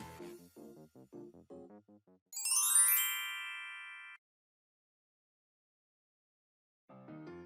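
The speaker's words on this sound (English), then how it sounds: "I've been ringing the doorbell for a while now." A two-tone doorbell chime rings once, bright and clear, after a short stretch of indistinct voice-like sounds, then fades; a brief voice returns at the end.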